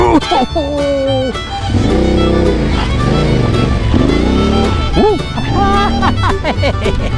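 A Yamaha T7 adventure motorcycle engine revving on a sandy trail, a loud, continuous rising and falling drone close by, with someone talking over it.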